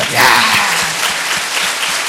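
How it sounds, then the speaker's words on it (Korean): A church congregation applauds during a laughter-therapy worship service, sustained loud clapping from a packed room that swells early and continues evenly, with a voice faintly heard beneath it. "아멘으로 박수로 우리 하나님께 영광을 돌리는 겁니다"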